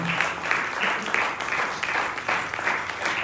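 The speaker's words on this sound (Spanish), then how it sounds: "Dale un aplauso bien fuerte al Señor." A church congregation claps loudly for the Lord, a dense, steady burst of applause with rhythmic surges, filling the room without any talking over it.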